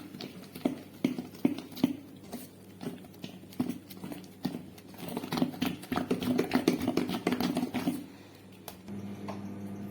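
Wet, rhythmic slapping and squelching from idli batter being mixed by hand, a fast irregular patter close by that stops near the end.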